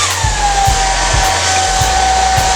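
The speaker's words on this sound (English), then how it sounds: "So I'm gonna spray and then I'm going to use my blow dryer." A hair dryer blows steadily and loudly throughout, a constant whooshing roar with a high whine and faint pulsing underneath.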